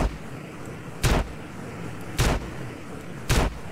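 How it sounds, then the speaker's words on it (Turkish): Shotgun blasts in San Andreas: Left 4 Theft Auto, a zombie-themed mod, come as three loud, evenly spaced single booms about a second apart over a low background rumble. "Kafadan shotgunla vurduk, adam ölmüyor."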